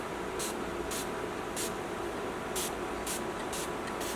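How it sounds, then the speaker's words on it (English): A fine mist spray bottle misting low-porosity, previously silk-pressed hair releases seven short, soft hissing bursts at an uneven rhythm against quiet room tone. "Now this is a fine mist spray bottle."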